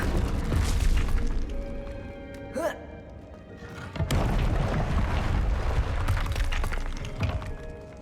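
A Confringo blasting curse in the Hogwarts Legacy video game on PS5, loud booming explosions with crashing rumble, a sharp burst partway through, and continuous heavy combat noise around it.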